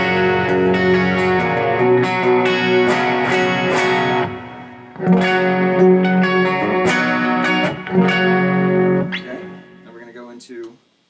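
Electric guitar chords on a Samick Radio Ten's stock humbucker bridge pickup ring out through effects, strummed and sustained in a few phrases before fading to silence.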